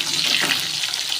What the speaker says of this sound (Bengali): এখানে পটল ভাজা হচ্ছে